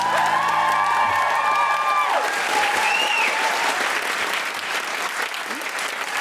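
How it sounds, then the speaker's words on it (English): A live audience at a comedy podcast recording bursts into loud, continuous applause with some cheering and whoops, with a few sustained tones at the start as the clapping swells and holds. "A huge round of applause for our wonderful guest, Zoe Lyons."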